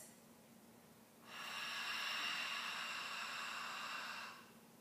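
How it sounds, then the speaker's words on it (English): A noisy open-mouthed 'fog the mirror' exhale during a Pilates rib hinge, one long steady breathy hiss lasting about three seconds, close and fairly soft, starting and stopping cleanly with quiet before and after. "You can hear she's just being very present with that fog of mirror exhale."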